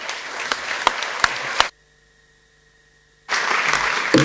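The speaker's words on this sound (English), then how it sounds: "Let's give him a big round of applause." Audience applause at a sports ethics and leadership summit, a broad wash of clapping from a crowd that stops abruptly, leaving a near-silent gap with a faint hum, then resumes just as loudly.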